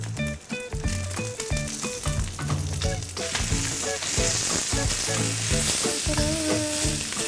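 Head-on prawns searing in a very hot pan for grilled prawns, a steady loud sizzle that swells after a few seconds beneath prominent background music.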